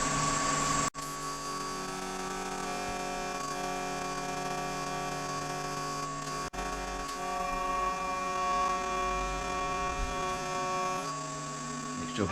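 A lathe spins at 1400 RPM, giving a steady mechanical hum with fixed tonal whine, continuous for the whole span apart from two brief clicks or cut-outs, with no talk over it.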